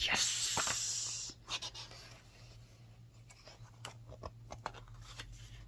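Scissors fussy-cut paper mushroom shapes: after a short rustle, quiet irregular snips and clicks come close up with light paper handling, with no voice over them.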